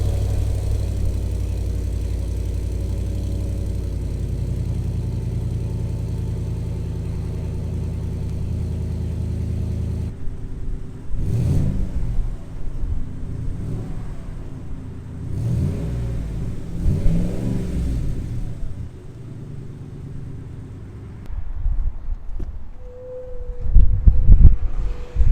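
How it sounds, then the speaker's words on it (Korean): A 2021 Harley-Davidson edition GMC Sierra pickup idles with a deep steady exhaust rumble, then is revved several times in rising bursts before settling, heard up close with no talking. "자, 그럼 배기음을 한번 들어봅시다."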